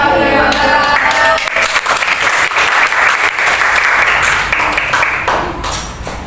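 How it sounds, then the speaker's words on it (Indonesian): An audience at an alumni talk event claps in warm, sustained applause, many hands going at once and filling the room, then the clapping thins out near the end. "mari kita beri tepuk tangan yang meriah"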